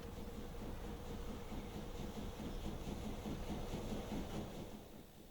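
A train running on the Manchester to Leeds line in the video game Transport Fever 2 makes a steady, fairly quiet rumble with a faint rhythmic clatter over the track, heard without any talking.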